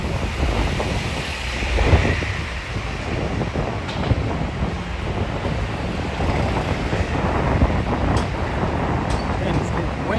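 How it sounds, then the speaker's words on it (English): Wind buffets a phone's microphone outdoors on the Upper East Side of New York City on a summer evening, a loud, continuous rushing roar with gusty low-frequency thumps throughout. "And it's getting windy. I'm pretty sure y'all hear it on the phone."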